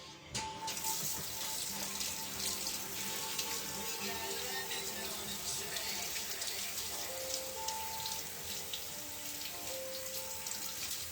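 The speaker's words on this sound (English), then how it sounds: "let me move this stuff out of the way so I can wash my hands, because I got clay all up on my hands." Tap water runs steadily into a sink while clay is washed off hands, a close continuous splashing hiss with small shifting tones and no talking.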